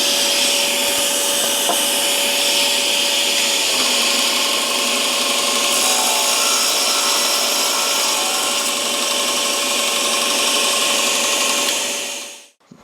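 Byrnes table saw ripping wood with a ripping blade while a dust collector hose draws air, a loud steady whine and roar for about twelve seconds before abruptly winding down.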